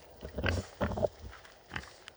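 A pregnant sow on pasture gives several short, close grunts and oinks in an uneven rhythm, fairly quiet overall with soft outdoor background.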